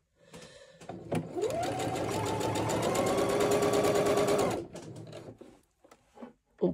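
A domestic sewing machine stitches elastic onto men's boxer shorts in one steady, whirring run of about three and a half seconds. A few clicks from handling the fabric come just before and after, and nobody talks.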